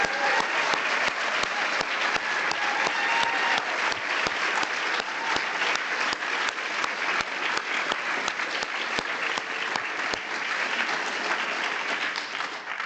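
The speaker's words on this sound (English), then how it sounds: "Please hold your applause until the end." Steady, dense audience applause fills a prize ceremony hall for nearly thirteen seconds, many hands clapping at once with sharp individual claps standing out, loud and unbroken with no talk over it.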